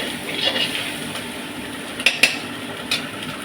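Cooked rice goes into a pan with soft scraping and stirring, a faint sizzle underneath, and a few sharp metallic clinks of a utensil against the pan.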